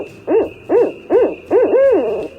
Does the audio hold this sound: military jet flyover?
no